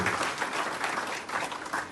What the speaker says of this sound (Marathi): पुन्हा एकदा त्यांच्यासाठी जोरदार टाळ्या झाल्या